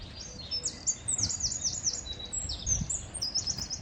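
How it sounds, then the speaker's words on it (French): Birds chirp and tweet repeatedly in high, quick bursts beside an old water-powered flour mill, fairly close, over a low background rumble. "je ne sais pas si vous entendez les oiseaux"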